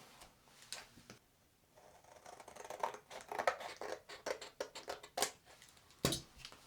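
Parts of a phone head mount are cut off in a few quiet, crisp snips and small plastic clicks, irregular and close.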